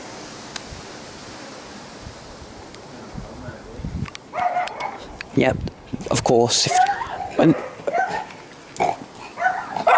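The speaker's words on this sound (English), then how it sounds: "And the neighbour's dog's barking." A neighbour's dog barks in short bursts in the background while people talk over steady outdoor noise.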